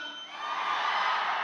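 A live music performance audience cheers, whoops and shouts steadily, a dense crowd roar that swells slightly and stays loud throughout.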